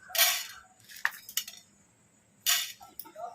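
Coriander seeds spooned into a hot kadai, several bright clinking taps of a metal spoon against the pan with rattling seeds between quiet gaps.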